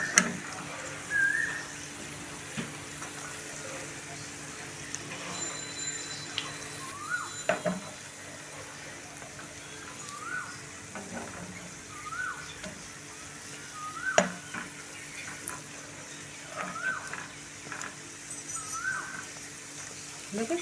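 Gujiya pastries frying in hot oil, a soft continuous sizzle with occasional clinks and faint whistling, close but quiet.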